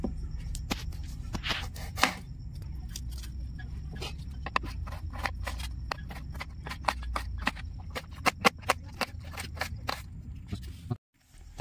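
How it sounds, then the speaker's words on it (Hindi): An onion being chopped with a knife on a board, a quick irregular run of sharp close taps that speeds up toward the end and then stops briefly. "आमर प्याज को काटिबा"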